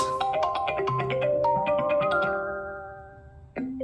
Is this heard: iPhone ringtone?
yes